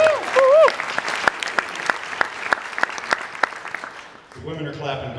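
A stand-up comedy audience breaks into applause, with a dense burst of clapping lasting a few seconds after a voice, then fading as he starts talking again.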